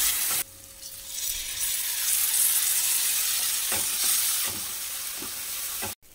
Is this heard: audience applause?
no